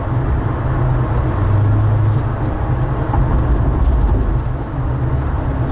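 Steady low rumble of a 1982 Chevrolet El Camino's engine and road noise heard from inside the cab on a test drive, even and continuous with no talk.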